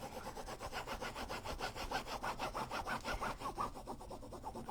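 Rapid back-and-forth scratchy rubbing as a rub-on transfer is burnished onto canvas, a steady rasping rhythm of quick strokes, close and fairly loud, with no talking.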